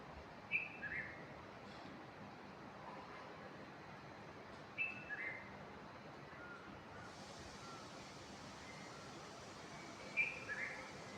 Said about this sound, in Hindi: ये देखो चिड़ियों की आवाज़।